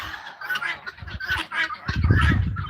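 Chickens cluck and honk while leaving their pen, a mix of close, lively fowl calls with scratchy movement, louder and busier toward the end.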